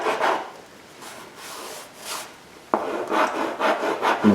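Hand-sanding body filler on the bumper fascia of a third-generation Camaro IROC-Z, a steady near scraping rasp in repeated strokes that grows louder and denser partway through, with no talking.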